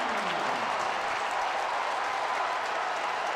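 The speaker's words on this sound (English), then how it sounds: "This crowd is absolutely electric" Basketball arena crowd at a men's tournament game erupts after a made shot, a loud continuous roar of cheering and applause filling the space.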